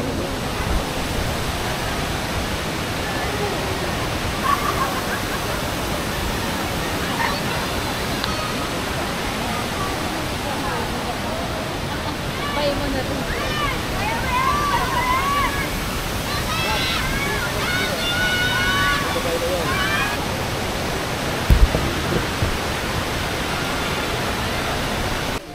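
Tangadan Falls in La Union rushes as a steady, broad roar of falling water that fills the scene without a break, while people talk and birds call faintly through it.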